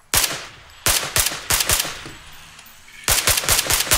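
Bursts of rapid automatic gunfire ring out in PUBG as shots are aimed at a motorbike, two clusters of sharp close cracks separated by a short quiet gap.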